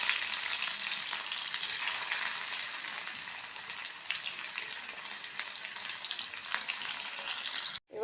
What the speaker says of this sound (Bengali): এতে তেল বসিয়েছি, তেলেতে আমি দুটো পেঁয়াজ দিয়ে দিলাম।